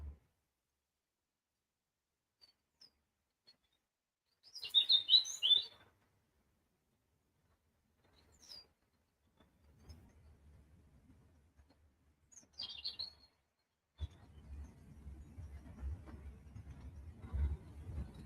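Birds chirp at feeding time in a quiet outdoor spot, a few short bursts of twittering spaced apart, fairly faint, with some low rustling and background rumble later.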